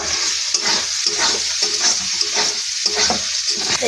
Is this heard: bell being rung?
no